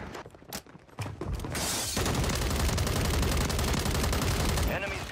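BAS-B rifle in Call of Duty Warzone firing a rapid, sustained burst of loud shots after a few scattered single cracks, with mechanical clatter and a voice talking over part of it.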